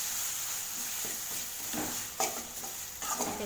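Tomatoes sizzle and fry in a pan for onion kurma as a spoon stirs them, giving a steady hiss under a few louder scraping strokes near the end, with no speech.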